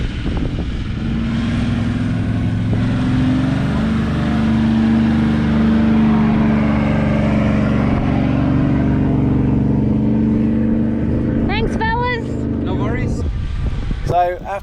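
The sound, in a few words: 4WD car engine revving while pushed out of a bog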